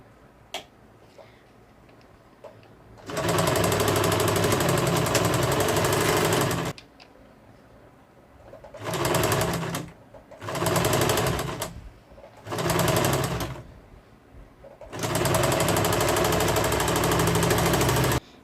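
A sewing machine stitches the edge of a baby dress in four loud, rapid runs of needle chatter, the first and last long and the middle two short, with brief quiet pauses between.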